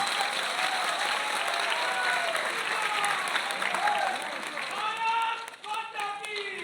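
Strong crowd applause welcoming the Uttar Pradesh Chief Minister at an International MSME Day event, fading toward the end as a voice begins to speak over it.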